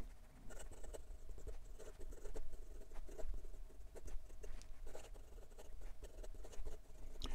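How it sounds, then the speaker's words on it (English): Asvine P30 bronze piston filler fountain pen writing on paper in a steady run of scratchy nib strokes, close and fairly quiet, with no talking. "And for some quick writing"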